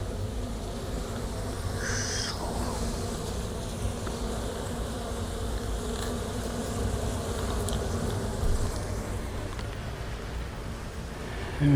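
Honeybees buzz steadily around an open beehive during a check for varroa mites and beetles, a continuous near drone with individual bees passing close, no talking.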